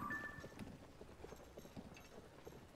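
A horse-drawn cart clip-clops along in the video game Zelda: Tears of the Kingdom, with steady, faint hoofbeats in an even rhythm and a short chime near the start.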